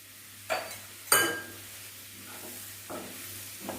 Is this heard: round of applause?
no